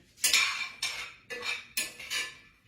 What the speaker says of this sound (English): Let me stir my pecans again.